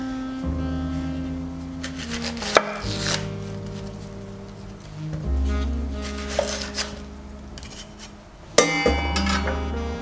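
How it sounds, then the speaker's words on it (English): An onion is chopped with a knife on a board for a salsa, rapid steady thuds in several bursts separated by short pauses, close and clear with no talk. "we'll cut up our other onion here"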